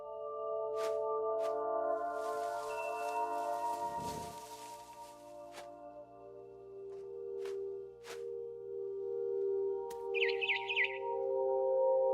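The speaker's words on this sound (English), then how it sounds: "Then I heard chirping outside my window. It was a barn swallow going back to her nest." Short barn swallow chirps from the video game What Remains of Edith Finch ring out sporadically over a steady synthetic tonal background, with a brief burst of brighter twittering near the end.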